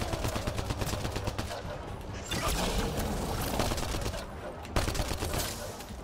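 An enemy colossus in Mass Effect Andromeda fires from range amid dense, rapid gunfire and heavy impacts, with bursts continuing throughout and brief lulls between volleys.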